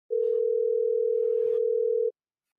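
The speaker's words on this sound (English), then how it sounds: "Larry picks up the phone and calls Vladimir von VonVon." A steady telephone dial tone drones for about two seconds in an audio drama scene, loud and unbroken, with faint background rustles as a character picks up the phone to place a call.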